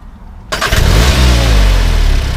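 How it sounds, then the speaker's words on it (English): An Audi S1 quattro's 2-litre TFSI turbo engine cranks and catches after a short silence, then settles into a loud, steady idle with a low rumble. "Start the car on."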